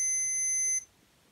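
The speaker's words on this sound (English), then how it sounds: "momentary beep there while the caps start charging up" Short electronic beep from a multimeter probing a Dare Audio V1100 power amplifier, sounding as the capacitors charge: a steady high tone held for under a second, then cut off abruptly into near silence.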